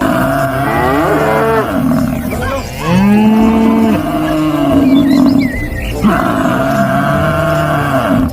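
A toy buffalo gives several long, deep moos in a row, loud and close, each drawn out with a rising and falling pitch.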